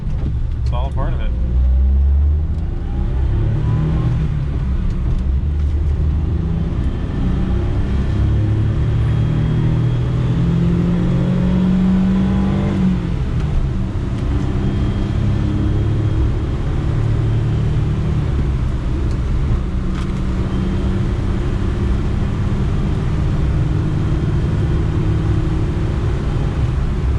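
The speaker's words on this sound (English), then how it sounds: "Transmission noise out of this, a lot of turbo noise." A car engine with 74,000 kilometers runs under load, a loud close rumble with transmission whine and turbo noise rising and falling, while someone talks over it.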